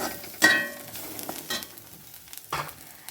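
Spices and aromatics for a mudakathan rasam are stirred in a hot pan, with scattered scraping stirs and a soft, faint sizzle between them, close by and without talk.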